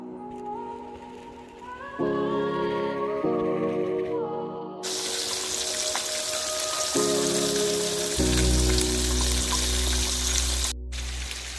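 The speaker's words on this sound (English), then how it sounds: "here's a look at our fish frying" Light-battered fresh fish frying in a pan, a steady broadband sizzle that swells sharply partway through and continues dense and close, with a low hum and some tonal background sound layered in earlier.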